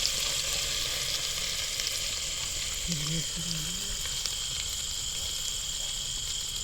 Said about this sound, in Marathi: आता हे मसाला त्याच्यात टाकायचा तेलात